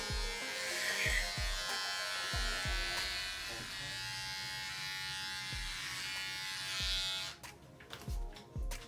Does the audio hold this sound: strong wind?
no